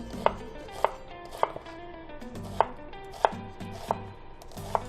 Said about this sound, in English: nice straight lines across, all the way across on onion